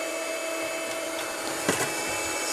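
GEKER 12V corded mini vacuum cleaner running steadily, a continuous close-up whine with a brief knock partway through, no voices.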